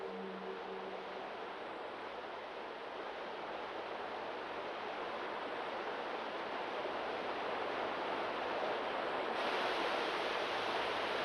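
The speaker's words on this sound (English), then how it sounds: "somewhere the distant sound of running water, tumbling over cascades hidden deep within the forests" Running water tumbles over cascades hidden in the forested Scenic Rim mountains, a faint, continuous broadband rush heard far off and unbroken, with no voices.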